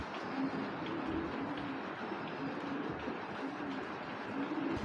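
A male Royal Teddy pigeon gives a run of low, throaty coos at a steady pace, up close over continuous background noise, without speech.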